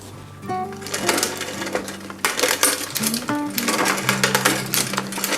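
Lubricated shifter pods (switch pods) on an old police motorcycle, left outside for five years, click crisply and repeatedly at close range, with sharp irregular bursts over a steady low tonal hum.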